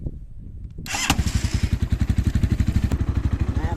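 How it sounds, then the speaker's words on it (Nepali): A Motorhead Scrambler 250 motorcycle with its original stock exhaust cranks and fires up after a brief quiet start, then settles into a loud, close, steady thumping idle with an even, rapid beat. "सुरुमा चाहिँ हामी एक्जस्ट ओरिजिनल एक्जस्ट सुन्नु त गाइस"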